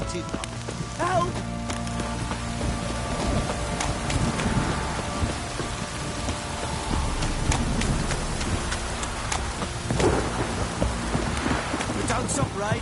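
Rain and thunder in a heavy downpour from the video game Witcher 3, a steady loud wash of rain with rumbling low thunder, occasional sharper crackles and faint voice-like sounds mixed into the storm.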